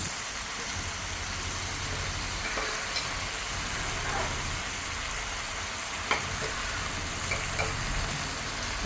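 Vinegar for a mixed pickle bubbles and boils down in a pan with a soft, continuous sizzle, and a few faint utensil taps sound near the end.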